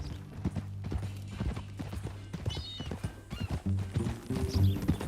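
Horse hooves clip-clop in a steady rhythm in the video game Red Dead Redemption 2, with an occasional whinny and some background ambience and music.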